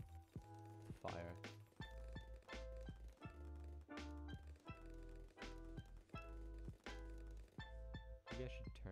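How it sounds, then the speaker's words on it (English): Repeated popping bursts from a farming video game, sharp pops and thunks recurring every half second or so over a steady musical tone, moderately loud and continuous throughout. "Hopefully you like the sound of popping."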